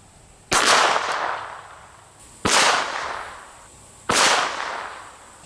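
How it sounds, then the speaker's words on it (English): Three sharp .22 cracks from a Ruger LCR revolver fired at a steel bumper plate outdoors, each crisp report spaced about two seconds apart and followed by a brief decaying ring. "We're going to start out with a 22 and we'll be using a Ruger LCR 22."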